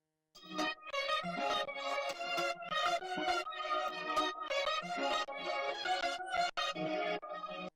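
A looped keyboard-style riff for a song, built on a looping setup for a live guitar version, plays as a dense, steady pattern of bright repeated notes, close and continuous with no voices.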